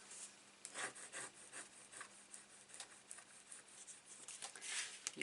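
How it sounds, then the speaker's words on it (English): Paper being burnished flat by hand for a vintage-style mini album, giving a soft, close, continuous rubbing and scraping with irregular strokes, fairly quiet with no talking. "Just lay that flat and give that a good burnish."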